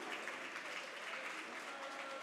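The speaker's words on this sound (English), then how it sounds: "You can applaud both teams." An audience at the Eurobot 2024 robotics competition finals gives faint applause for both teams after a game ends. A soft, distant wash of clapping lasts about two seconds with a little crowd murmur.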